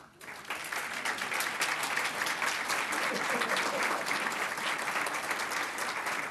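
Steady applause fills a Department of Education hall as student artists and their families stand to be recognised, a broad continuous wash of many hands clapping at moderate loudness throughout.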